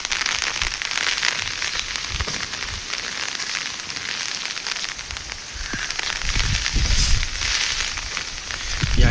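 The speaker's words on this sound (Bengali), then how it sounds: "কি আকারে ঝড় বৃষ্টি হচ্ছে" A heavy early-morning rainstorm in a Bengali village pours down on a rooftop as a dense, steady roar of rain with crackling patter and gusts, loud and continuous, with no voices.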